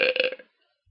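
A single short, loud human burp, close up and abrupt, fading out within half a second into silence.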